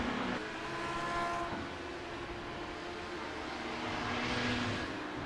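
LMP2 race cars in a sim racing endurance event roar continuously three-wide through a long right-hand turn, the loud engine drone rising and shifting as the cars pass.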